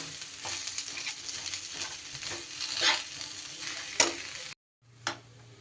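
Potato stuffing for chop and singara being stirred in a pan, with a steady scraping and sizzling texture and a couple of louder knocks of the utensil, broken by a short gap near the end.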